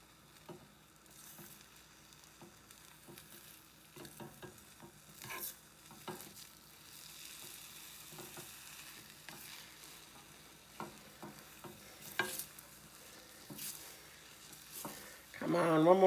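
Egg for a Japanese omelette frying in a pan, with a faint continuous sizzle, scattered light ticks and scrapes of a utensil, growing a little louder toward the end, close and quiet.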